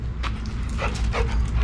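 A dog whimpers and gives short yips while eagerly waiting for a ball during basic training, its brief whines repeating close by over low background rumble.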